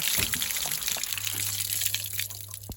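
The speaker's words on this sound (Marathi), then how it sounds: "आता इकडं धुवायचे आहे मुठ्ठे पाणी घालून" Water poured over cashew apples to wash them, a brief splashing, trickling pour close by with a low hum underneath.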